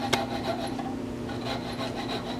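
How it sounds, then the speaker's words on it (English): Hand saw cutting off wooden pieces for a lazy Susan woodworking project, a close, quiet scratchy rasp of back-and-forth strokes in a steady rhythm, no talk. "First I'm going to saw these off and do the usual sanding."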